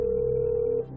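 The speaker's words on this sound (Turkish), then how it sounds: "Telefon çalıyor." A telephone rings during a TV quiz show lifeline call, one steady electronic tone held for most of a second before cutting off.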